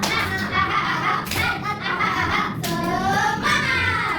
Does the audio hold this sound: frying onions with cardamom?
no